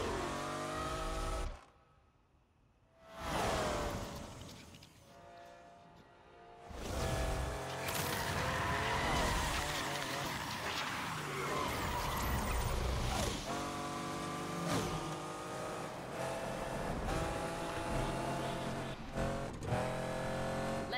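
A race car in Need for Speed Unbound roars and revs hard through a full race stretch, loud and continuous engine noise with shifting pitch. It drops out briefly near the start, and there is no talk.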